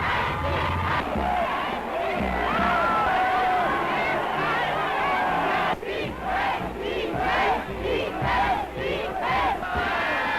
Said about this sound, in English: Here the same crowds that only yesterday hailed Schuschnigg's promise of continued liberty, today cheer Hitler.